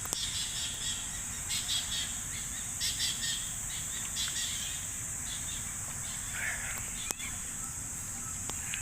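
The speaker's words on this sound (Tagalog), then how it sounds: "May mga ibon din dito" Hidden birds chirp and call intermittently in a patch of forest in the middle of the UP Oval, thin high notes over a steady insect drone, moderately distant.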